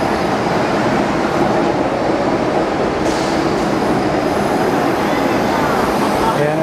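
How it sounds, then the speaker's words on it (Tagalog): Hong Kong Disneyland train pulling into a station, a loud, steady rumble of rail transport with a brief hiss near the middle, continuous throughout. "Ayan, nandiyan na yung train."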